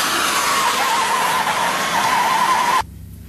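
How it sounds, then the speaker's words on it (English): MAP gas torch heating a bearing part during a Yamaha Blaster engine assembly, a loud steady roaring hiss that cuts off abruptly near the end. "And again, map gas. I'm going to heat this up 250 degrees."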